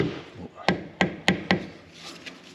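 Four sharp, evenly spaced taps drive a differential pinion oil seal into a MK2 Panda 4x4, close and crisp, with softer handling noises before and after.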